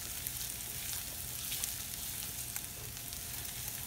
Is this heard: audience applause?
no